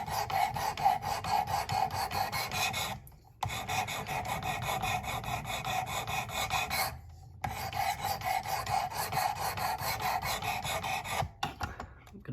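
A knife blade is sharpened on a Work Sharp Precision Adjust system with steady, close, rhythmic rasping strokes of abrasive on steel, carried on in three long runs split by brief pauses, with no talking.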